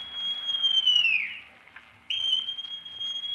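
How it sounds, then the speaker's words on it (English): A whistle blown twice in a radio drama of Treasure Island, a long shrill tone that bends downward and stops, then a second sustained blast after a short pause. "Then Silver brought out a whistle."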